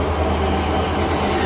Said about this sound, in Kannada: ಆ ಟ್ರೈನ್ ಬರುವಾಗ ಅಷ್ಟು ಫೋರ್ಸ್ ಇರುತ್ತೆ ಟ್ರೈನ್ ಸೌಂಡು.